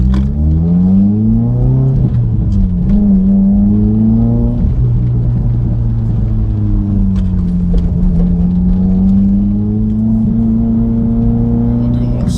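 A 500whp Mitsubishi Evo X pulling hard in second gear, its loud engine drone climbing steadily in pitch, dipping at a shift, then rising again, heard close from inside the car.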